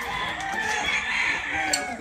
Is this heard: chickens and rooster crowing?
yes